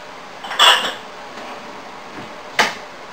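Glass canning jars clink and knock as they are packed with cucumbers for a raw-pack pickle, two short bright clatters spaced apart against a quiet kitchen background.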